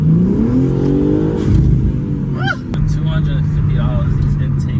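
A BMW G80 M3 with new aftermarket intakes and a stock exhaust revs up loud and close, its engine note climbing in a rising sweep and then holding a steady hum, with voices talking over it.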